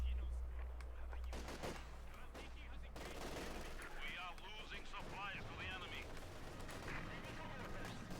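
Mortar and machine gun fire in Company of Heroes 2 battle audio, dense overlapping gunfire bursts and explosions throughout, with a commentator talking over it.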